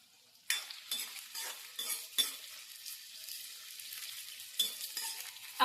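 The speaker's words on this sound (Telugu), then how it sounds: "ఇదిగోండి, బాగా వేగనిచ్చాను" Sliced onions and green chilies fry in a pan, with steady sizzling broken by a handful of sharp spatula scrapes and stirring clinks, close and fairly quiet, with no talking.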